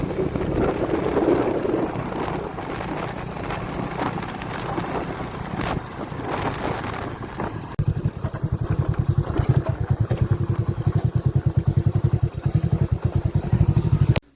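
A farm tractor pulls up at a groundnut field for threshing, its engine a loud, close drone with wind buffeting the microphone, then settling into a steady, rapid chugging beat for the second half before cutting off.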